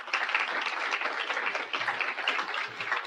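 Steady applause from an audience at a city State of the City address, a dense unbroken wash of clapping lasting the whole moment without any speech.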